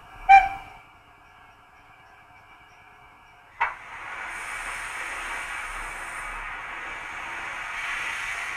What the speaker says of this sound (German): F3, Dampfpfeife, kurz.